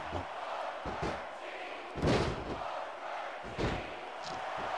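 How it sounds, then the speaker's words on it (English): An arena crowd in SVR 2006 cheering for Booker T, a constant roar under commentary with heavy ring slams and thuds thumping through now and then. "They're cheering for Booker T."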